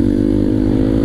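A motorcycle revs hard on a steep hill climb beside a ravine as the clutch is snapped, a loud, close, constant throbbing engine roar.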